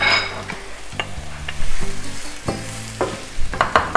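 Onions and peppers frying in a hot pan, a loud continuous sizzle broken by repeated stirring scrapes and clattering utensil hits throughout, with no talk.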